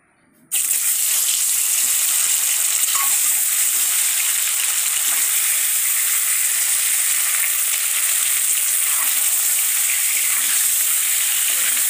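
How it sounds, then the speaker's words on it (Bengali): Eggs dropped into hot oil in a home kitchen pan, bursting into a loud, continuous sizzle that starts abruptly and stays bright and steady, with faint pops scattered through it. "তেলটা গরম হয়ে গেছে, দাও ডিমটা দিই"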